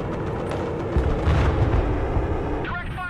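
Artillery fire in the Broken Arrow video game, a dense rumbling barrage of booms that swells midway through before settling, with bright chirping game sounds near the end.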